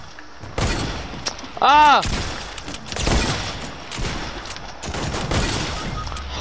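Hunting rifle shots ring out in a video game, a few sharp cracks scattered over several seconds amid game noise, with a yelp of speech briefly in the mix.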